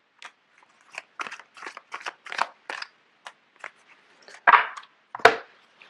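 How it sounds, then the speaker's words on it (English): Playing cards shuffled during a tarot-style reading, a run of short dry riffling and flicking bursts with brief pauses, the last two bursts louder and closer. "I'm going to put these in and shuffle it again because too many came out"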